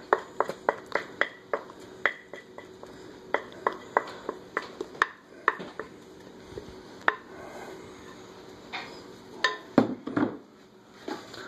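Bread dough for sandwich bread is tipped out of a mixing bowl onto a floured countertop, heard as a quick series of sharp taps and clatters against the bowl with soft scraping between. It is close and clear, with no talking.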